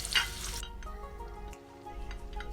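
Garlic sautéing in hot cooking oil in a pan gives a steady soft sizzle and crackle, with a brief brighter burst at the start before settling into a continuous fry.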